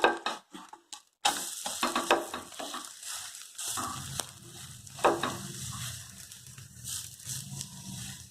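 An oats and egg omelette sizzles and fries steadily in a pan, with a sharper clatter early on as it is flipped, then continuous frying crackle to the end; no one speaks.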